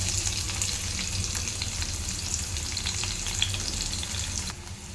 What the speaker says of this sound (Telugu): ఆయిల్ వేడైంది కదా ఇప్పుడు ఇందులో జీలకర్ర వేస్తున్నాను ఇందులోనే ఉల్లిపాయ ముక్కలు కూడా వేసేసుకోవాలి